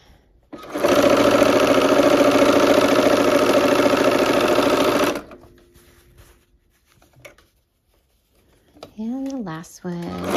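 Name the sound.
sewing machine stitching quilt pieces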